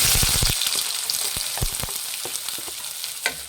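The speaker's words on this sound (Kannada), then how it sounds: "ಎಣ್ಣೆ ಬಿಸಿಯಾಗಿದೆ ಈಗ ಸಣ್ಣದಾಗಿ ಹಚ್ಚಿರೋ ಅಂತ ಎರಡು ಈರುಳ್ಳಿ ಹಾಕ್ತಾ ಇದ್ದೀನಿ" Finely chopped onions sizzle in hot oil for an egg bhurji, a loud steady frying hiss broken by several sharp stirring clacks, most dense in the first half second and close by, with no voices.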